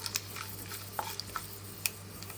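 Dry red chillies roasting in a pan and being stirred, with scattered light scraping clicks and soft utensil taps over a low steady hum, close and fairly quiet.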